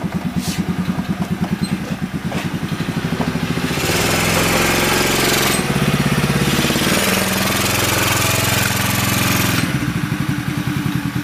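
A Chinese buggy's 110cc four-stroke engine runs close by, starting with a rapid, even idle, then revving louder and rougher for several seconds before settling back to a steady idle.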